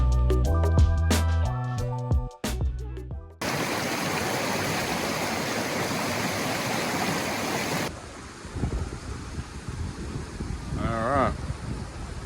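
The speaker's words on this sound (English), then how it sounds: "we have a river here" A mountain river rushing past a campsite near Creede, Colorado, a loud, dense roar of flowing water that starts after a burst of music, then drops to a softer background flow with a brief voice.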